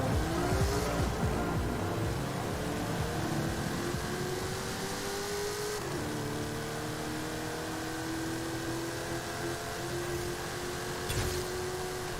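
A Ford F-250 drag truck accelerating hard on a launch, its engine climbing steadily in pitch through the gears with a brief shift break, loud and continuous without talk.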